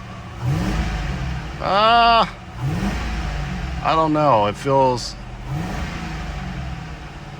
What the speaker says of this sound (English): It's not idling down, and it's slow to rev, and it's slow to come down.